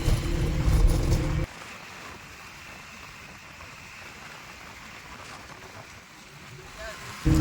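A new Honda Activa scooter carrying riders along a road, a low steady rumble of engine and wind noise heard up close, with a loud burst of speech at the start.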